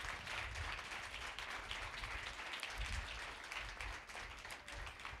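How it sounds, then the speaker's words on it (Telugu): A church congregation claps loudly and steadily together in praise, a dense wash of applause that fills the room without pause. "ఒకసారి గట్టిగా చప్పట్లు కూడా వేసే స్తోత్రం చెప్పు."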